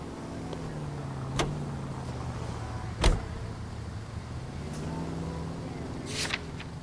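A car drives through the 2011 video game L.A. Noire, its engine a steady low drone with a rising and falling pitch, broken now and then by short clicks and thumps, with no speech.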